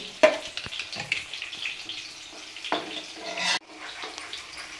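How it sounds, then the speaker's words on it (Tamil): Ghee trickling into bread halwa as it cooks in a pan, giving a soft sizzling, bubbling wash of sound with a brief louder burst near the start and a swell before a sudden drop. "இப்போ நெய் கொஞ்சம் கொஞ்சமாக ஊற்றிக்கலாம்"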